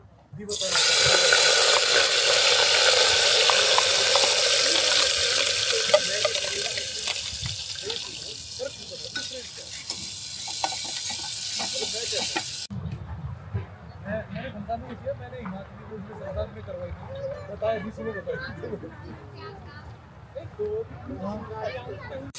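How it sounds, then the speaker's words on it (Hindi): Loud, steady frying sizzle of cumin and asafoetida in hot oil at a campsite near Jispa, Ladakh, for about twelve seconds, then quieter crackling with a voice talking over it. "और देखो मसाले कितनी बढ़िया ऐसी आवाज़ आ रही है, चींची चींची वाली"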